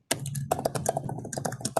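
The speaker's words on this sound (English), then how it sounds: "you're typing." Rapid clicking of computer keyboard keys, close and fairly loud, in an uneven, continuous typing rhythm during a public hearing presentation.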